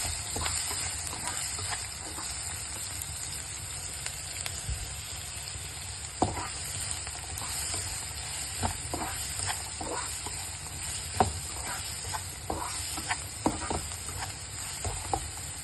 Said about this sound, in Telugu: ఈ ఉల్లిపాయలన్నీ మంచిగా ఫ్రై అవ్వాలి.